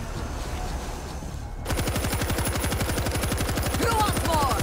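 A big gun in the zombie shooter World War Z, set in New York, opens up after a quieter moment, firing a rapid, sustained automatic burst of loud, close shots that continues without pause.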